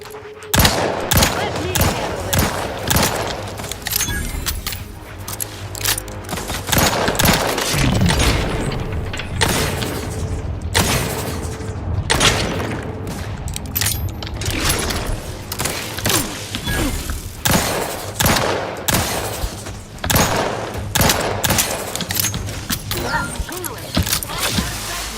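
Rapid automatic gunfire from a newly switched weapon in The Outer Worlds 2 rattles almost nonstop, loud and dense with occasional booms and brief pauses between bursts.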